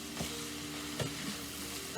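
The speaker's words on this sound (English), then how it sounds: "just stir all this up together. Get that flavor of juice through that meat" Meat and its juices get stirred in a hot frying pan for a spaghetti dinner, giving a steady close sizzle broken by a couple of short scraping stirs.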